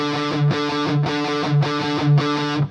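Distorted electric guitar plays a tight, muted chugging riff with even down-up picking, repeated in a steady looping rhythm.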